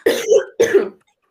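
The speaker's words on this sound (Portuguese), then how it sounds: "deixa eu dar uma tossida" One person gives a throaty cough and then clears their throat, two short, loud, close bursts about half a second apart, with silence after.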